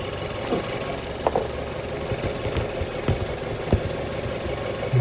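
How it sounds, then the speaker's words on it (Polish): A 2010 Mazda 6 GH 2.0 petrol engine, 140,000 km, idles steadily and evenly, a continuous low hum with faint ticking, heard close by with no talk. "Silnik pracuje bardzo równo, cichutko"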